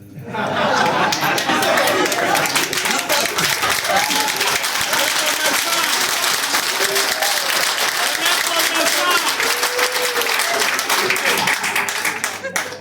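Sustained, loud applause from a standing crowd at a business training seminar in Togo, with quick sharp claps, chatter, cheering voices and some laughter mixed in throughout.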